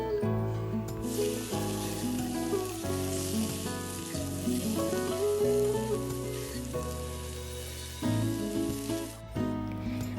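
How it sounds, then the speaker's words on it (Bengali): Bottle gourd fries and is stirred in a pan after slit green chilies, with a continuous broad sizzle running beneath loud background music throughout. "আমি এখন লাউটা দিয়ে দেব দিয়ে ভালো করে নেড়ে চেড়ে নেব"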